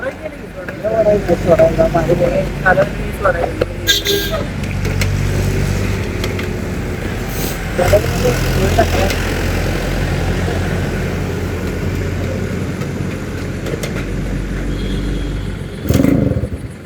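A Yamaha RX 100 two-stroke motorcycle being kick-started, catching and stalling, with a sputtering engine rumble under loud, excited talk and sharp clanks from the kick pedal.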